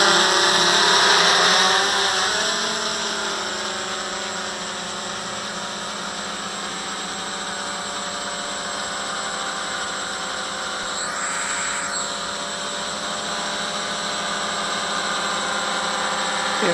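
A DJI F550 hexacopter multirotor hovering nearby: a steady, loud whine of six motors and propellers holding level, with a slight waver in pitch as it drifts and is trimmed.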